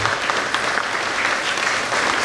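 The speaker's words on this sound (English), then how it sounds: "So I want to give you guys a round of applause as well for being such great parents." An audience at an elementary school D.A.R.E. graduation gives the parents a round of loud, steady applause, close and continuous without any speech over it.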